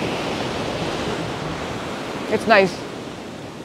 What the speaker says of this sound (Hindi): और मस्त हवा चल रही है और हाई टाइड बहुत ज़्यादा हो गया है